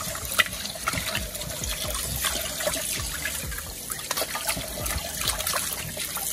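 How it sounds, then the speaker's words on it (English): Tap water runs steadily into a kitchen sink while raw meat is washed, a close trickling and splashing stream with small irregular drips and gurgles throughout. "You wash your meat in clean sink."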